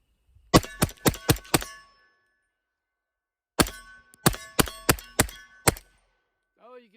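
Two rapid strings of suppressed gunshots through a compact Witt Machine & Tool Dirty 30 suppressor on a range, five sharp close reports, a long pause, then six more, with a short voice at the very end.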